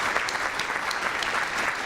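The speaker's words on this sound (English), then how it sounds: "Let's give a round of applause, please" A conference audience at a shipping industry event claps after a panel session, a sustained round of applause from a mid-sized room, even and moderately loud for the full stretch.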